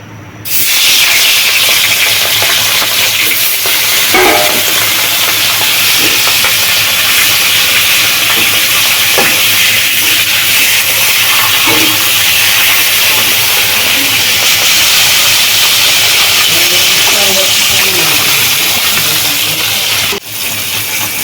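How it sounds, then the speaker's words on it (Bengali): Fish frying in hot oil in a village kitchen, a loud, steady, broadband sizzling hiss that runs almost without change, with faint clinks now and then. "মাছটা ভাজা হয়ে গেছে আমি নামিয়ে নেব"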